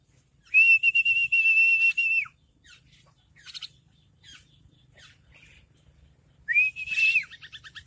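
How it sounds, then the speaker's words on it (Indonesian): A tame starling whistles loud, clear, sustained calls near the listener, one long note, then a pause filled with scattered chirps and squawks, followed by another long whistle. "Nah, itu jalak kita satu lagi bos, udah terbang-terbang dia."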